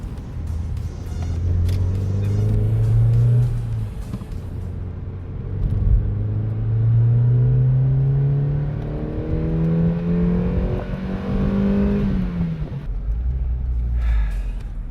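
Naturally aspirated Mazda MX-5 NB with a manual gearbox and rear-wheel drive, its engine revving hard through the gears in several rising sweeps, loud and close, with no talking.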